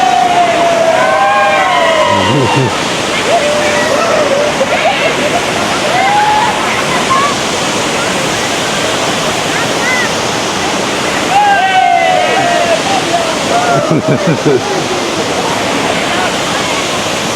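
Daranak Waterfall in Tanay, Rizal, Philippines roars as a loud, continuous rush of falling water, close by. Faint voices and whistle-like cries rise above the roar in places.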